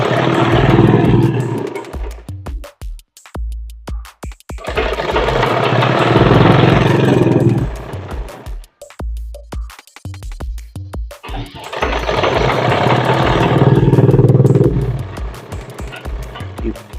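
A sewing machine stitches a pant seam in three separate runs of steady, fairly loud mechanical whirring, each lasting about four seconds, with short quiet pauses between them.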